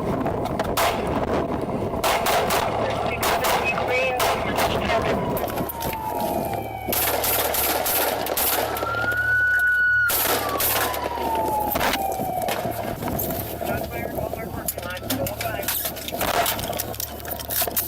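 Gunfire erupts during a police confrontation with a shooter. Sharp, scattered bangs crack out in irregular bursts while a siren wails and people shout nearby.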